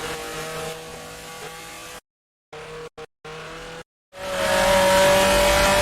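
A 1966 Formula 2 race car at the Rouen Grand Prix in Grand Prix Legends snarls at high revs as its tyres ride up over a kerb, the loud engine briefly cutting out in abrupt gaps before surging back.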